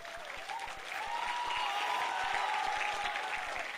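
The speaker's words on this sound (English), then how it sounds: "I request all of you to stand up and give a thunder-breaking hand claps for this entire team." Audience applause for a team at an awards ceremony, a steady mass of hand claps swelling after a quiet start and holding strong, with a faint tonal murmur beneath.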